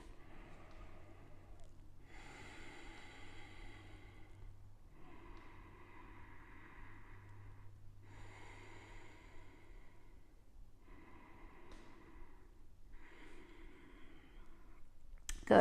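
Slow, deep breathing during a chair yoga hold, with soft, airy inhales and exhales in an even rhythm of about six breaths, heard close over a quiet, steady low hum.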